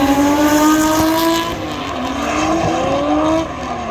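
A 240 drift car at Mission Raceway roars loudly with revving engine and squealing tires, its pitch rising and falling as it slides through the course in a grassroots drifting event.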